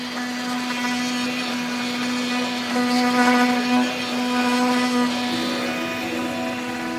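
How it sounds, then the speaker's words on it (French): Machinery runs in a jersey flocking workshop with a steady mechanical drone and a strong constant hum, holding level throughout with no speech. "Mais pour nous, c'est le bruit des machines qui tournent"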